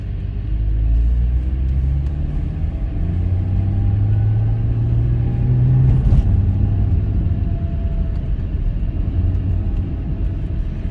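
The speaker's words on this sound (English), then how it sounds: "you won't hear much of the engine unless you accelerate or something" A Porsche 718 Cayman S engine heard from inside the cabin while driving at ordinary speed, a steady low rumble with road noise and a gentle rise in pitch midway, no talking.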